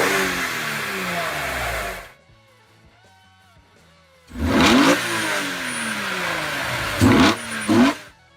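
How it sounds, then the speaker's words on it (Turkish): BMW E46 M3 straight-six engine revving hard to about 5500 rpm, two loud bursts of throttle separated by a quiet gap, the second burst ending in sharp repeated blips near the close. "5500 devirde o 6 gaz kelebeği tamamen açıldığında ortaya bir ses çıkıyordu ki Allah Allah"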